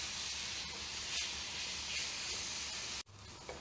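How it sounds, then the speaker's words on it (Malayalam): Ginger garlic, slit green chillies and curry leaves fry in hot oil for a Kerala-style mutton roast, giving a steady loud hiss of sizzling that cuts off abruptly near the end, no voices. "ഇതെല്ലാം കൂടി ഒന്ന് നന്നായിട്ട് മൂപ്പിച്ചെടുക്കാം."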